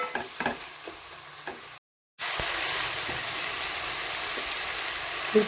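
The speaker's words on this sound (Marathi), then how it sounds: "टमाटे टाकून घे त्याच्यामध्ये, हलवून घेते" Tomatoes fry with ginger-garlic masala for a dried bombil fish masala, soft spatula scrapes and taps over faint sizzle, then a brief dropout before a louder, steady frying hiss takes over, close, no voices.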